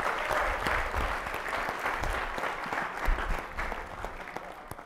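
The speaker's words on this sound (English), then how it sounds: "everybody gives everybody a big hand of applause" A conference audience claps in sustained, dense applause for several seconds, steady and fairly close, fading slightly at the end.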